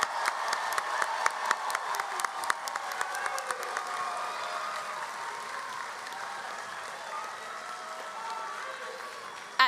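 A crowd at a 2026 high school graduation ceremony applauds the graduating class, with sharp individual claps at first that merge into a long, fairly distant wash of applause lasting several seconds.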